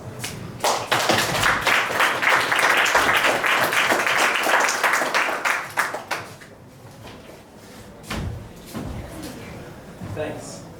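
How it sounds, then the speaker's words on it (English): At a city hacknight meetup, a small audience claps for about six seconds, a loud scattered patter that thins out and stops, followed by a few thumps, shuffling and faint talk in the room. "Round of applause."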